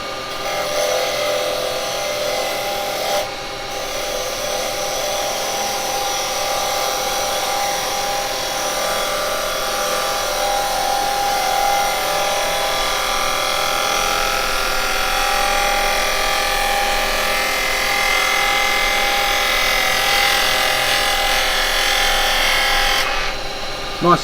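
A wood lathe spins a workpiece while a carbide chisel makes a slow finishing cut, giving a continuous whirring hum with a rasping scrape held steady throughout, close and loud.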